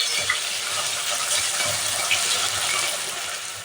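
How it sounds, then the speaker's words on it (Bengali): Chicken frying in hot white oil in a kadai, giving a steady, bright hiss and crackle that holds at an even level throughout, with no voices. "চিকেনটাকে আমি এখন ভাজবো সুন্দর করে, লাল লাল করে চিকেনটাকে ভাজবো।"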